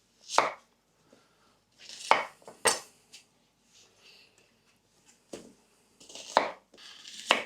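A knife chops garlic and onion on a cutting board in separate bursts of quick, crisp thuds, close up with short pauses between them.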